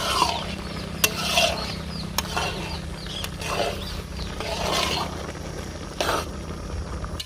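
Carrots simmering in milk for carrot halwa are stirred steadily in a pan, producing continuous scraping and a soft bubbling sizzle, with occasional sharp clinks of the spoon against the vessel, close and fairly loud.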